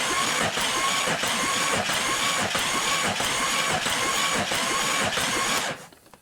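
Engine turned over by a remote starter after cylinder head installation, a steady rhythmic mechanical cranking with even compression pulses, loud and close, stopping abruptly near the end.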